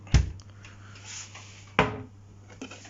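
A small fridge door set inside a cabinet in a Japanese hotel room opens and closes, giving two close, dull wooden thumps about one and a half seconds apart, with faint room noise in between.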